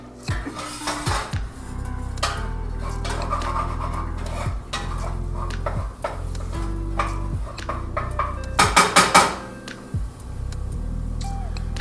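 A pan is set back on the stove while making tomato sauce and meatballs, with close metallic clanks and scrapes against the burner and a burst of rattling knocks toward the end.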